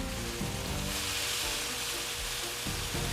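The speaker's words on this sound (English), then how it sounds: "Try to get that sear on all sides." Blackened grouper fillets searing on a Blackstone griddle give a soft, even sizzle throughout, with a low hum and a few light stirring or scraping touches underneath.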